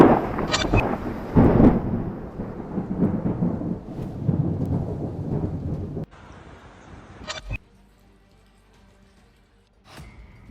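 Thunder rumbles and cracks over steady rain during a monsoon storm in Rajasthan, loud and close at first, easing into quieter rainfall with a few sharp thunderclaps later.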